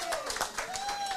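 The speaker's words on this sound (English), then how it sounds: "All right, clap, clap, clap, clap, clap, clap, clap." Crowd clapping at a live pregame kickoff show before an Eagles versus Cowboys football game, a rhythmic, fairly quiet pattern of claps over a little more than a second.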